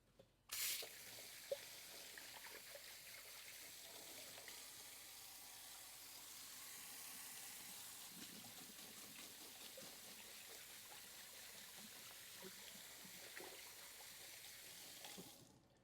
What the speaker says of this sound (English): Go give my hands a quick wash.